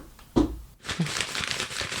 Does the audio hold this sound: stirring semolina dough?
no